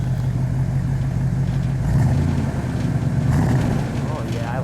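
A 1964 Buick Wildcat convertible's V8 idles with a steady low rumble through its exhaust, then swells in two brief revs before settling back, close by and continuous.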